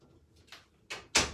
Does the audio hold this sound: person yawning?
no